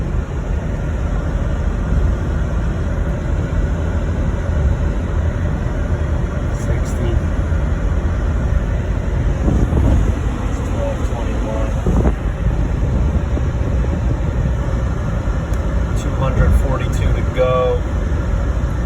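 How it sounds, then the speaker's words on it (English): Steady broadband rush of air conditioning blowing hard inside a moving 2010 Jeep Grand Cherokee Limited with a 5.7 HEMI, a constant loud roar mixed with road noise throughout, with a few faint tones and clicks near the end. "So, we're still driving, got the AC blaring."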